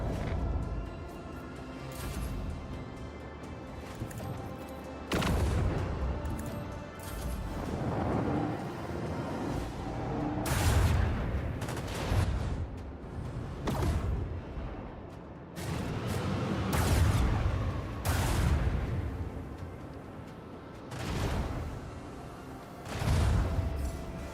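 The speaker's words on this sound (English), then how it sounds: "Let the macro cannons sing their deadly destiny." Macro cannons on a heavy cruiser firing in the Rogue Trader video game, a series of deep, heavy booms and blasts spaced a few seconds apart, loud and rumbling over a low ambient backdrop.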